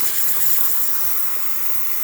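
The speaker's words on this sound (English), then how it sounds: "now that the steam is ready, you can see nice pressure coming out of the machine" Steam hisses steadily and loudly from the steam wand of a Jura F9 coffee machine, a continuous close-up rush with no speech.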